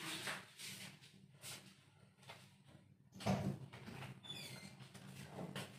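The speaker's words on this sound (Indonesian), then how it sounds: "saya akan buka" A kitchen door or cupboard being opened before cooking, a series of soft knocks and sliding scrapes with a louder thump midway, quiet and close in a still room.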